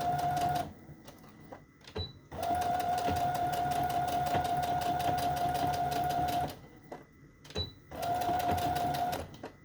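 A sewing machine runs straight stitches through fabric and lace in three steady whirring bursts, the longest in the middle, separated by short pauses with light handling noise.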